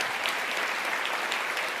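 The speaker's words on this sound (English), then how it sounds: "please give all the 2019 Founders Awards recipients another big round of applause" Gala audience clapping for award recipients: a brief burst of dense, continuous applause from a large crowd, steady and fairly loud throughout.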